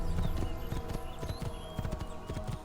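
Horse hooves in Assassin's Creed 2 clop in a quick, fairly regular trotting rhythm, close and clear over a faint game background.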